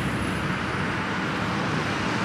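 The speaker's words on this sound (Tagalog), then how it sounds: "Yung medyo maingay po na background is yung mga auto yan." Steady, dense roar of cars passing along a nearby road in Holland fills the whole stretch, a constant broadband wash with no distinct passes and no one talking.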